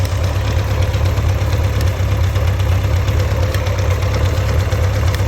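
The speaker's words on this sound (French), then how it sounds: "Ce qu'il faut, c'est le son d'échappement équilibré." An engine idles steadily during carburetor synchronization, a close, even low exhaust rumble and hum that holds constant throughout with no talk.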